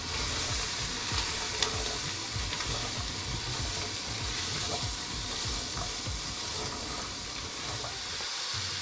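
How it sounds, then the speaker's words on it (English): Sausage stirred and sizzling in a soup pot, a steady close frying crackle with scraping spoon strokes running throughout, loud and continuous with no talk. "I can smell that sausage, so let's go ahead and get it stirring."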